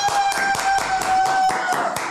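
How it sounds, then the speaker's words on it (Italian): Applause from a small group welcoming a guest, a brief burst of sharp, irregular claps heard close and fairly loud with no talk over them. "Presentiamo Taylor Mega, un applauso."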